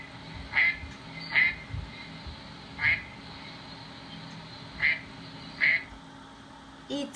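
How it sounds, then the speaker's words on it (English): A duck quacks five times in separate short bursts spread evenly across the clip, clear and fairly near over a faint steady background hum. "It's a duck."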